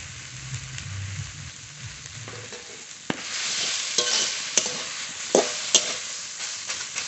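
Mustard greens fry in a pan with a rising hiss as they hit the oil, followed by repeated scraping stirs and clanks of the spatula, close and fairly loud.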